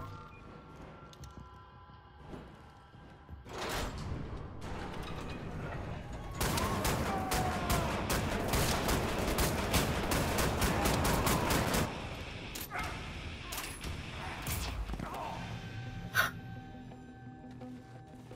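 Heavy gunfire from Wolfenstein: The New Order, with repeated loud shotgun blasts merging into a dense volley of shots and crashes that runs for several seconds, framed by quieter game ambience and a final sharp report.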